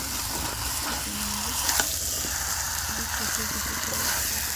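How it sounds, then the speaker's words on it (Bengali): Potatoes sauté slowly in a pan for aloo dum, a soft continuous sizzle like light rain with faint stirring clicks, fairly quiet and low in the background. "আলু খুব ভালো করে কষে নিয়েছি,"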